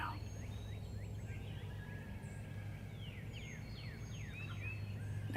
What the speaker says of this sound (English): There's another gobble.